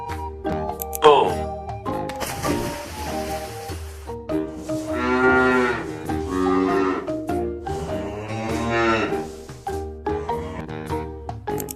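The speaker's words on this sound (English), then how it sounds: "Bull." Toy bull in a zoo-animal toy set giving a sound effect: long drawn-out moos repeated several times over steady background music, with a voice speaking briefly.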